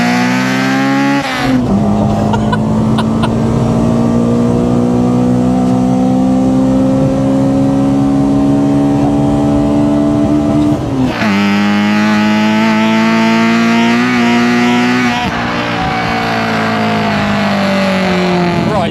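A Honda Civic EJ9 with a B18 1.8-litre engine revs hard on the road, its tone climbing steadily through long pulls and dropping briefly at each gear change before rising again, loud and close.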